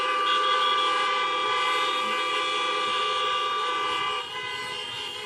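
Car horns honk together in a long, steady blare at an outdoor political rally in Regina, loud and unbroken before easing slightly near the end.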